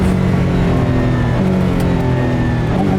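An 800bhp Ford GT Mk IV supercar engine under way, holding a steady, loud, even drone with a slight rise in pitch over a few seconds, no talking.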